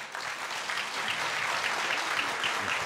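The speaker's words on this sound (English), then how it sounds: "I think we should give a round of applause for what he went through" A boxing Hall of Fame crowd in Canastota gives Miguel Cotto a sustained round of applause, a steady wash of clapping at moderate level, somewhat distant.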